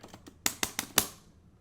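Arcade stick and buttons clack through a quick Ken combo in Street Fighter 3, with a few soft taps followed by four sharp, close plastic clicks in rapid succession.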